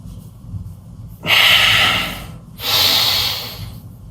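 Two deep breaths during a guided fascia release routine for the ribs and diaphragm, each a long, close, airy inhale-exhale lasting about a second, separated by a short pause, with no talk.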